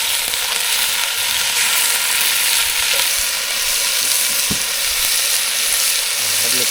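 Meat browning in a cast-iron camp oven over a campfire, giving a steady, close sizzle and crackle of frying fat throughout, with a few soft clinks and no speech.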